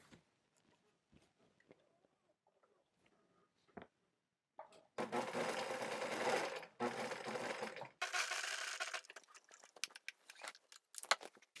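Sewing machine stitching darts on a wrap skirt, two bursts of steady rapid mechanical whirring of a few seconds each, close and fairly loud, surrounded by quieter clicks and fabric handling.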